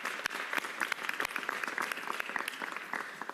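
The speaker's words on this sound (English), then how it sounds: "Let's give them a round of applause." Applause at a New York City mayoral press conference, many hands clapping in a quick, irregular patter with distinct sharp claps throughout, moderately loud and steady across the whole stretch.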